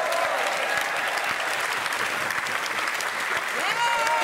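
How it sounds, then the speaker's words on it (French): A television studio audience gives a continuous, even roar of applause, dense and fairly loud throughout, with a few voices faintly audible beneath it. "Applaudissements pour lui."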